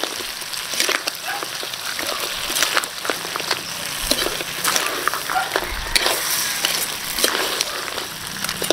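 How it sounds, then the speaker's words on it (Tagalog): Crab sautéing in a pan with pineapple broth, a dense crackling sizzle with irregular popping spatters throughout, steady and close, no speech. "Gigisa lang natin saglit."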